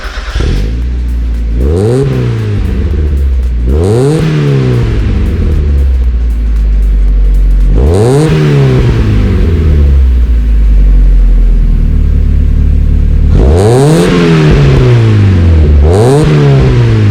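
A 1997 Mazda Miata with a Goodwin Racing exhaust and Racing Beat intake revs repeatedly, loud and close, with sharp throttle blips rising and falling over a steady idle rumble and no talk.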